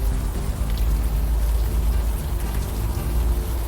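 Steady rain patters down in Unavowed, a dense, even hiss of drops with no break, loud and close, with no voices over it.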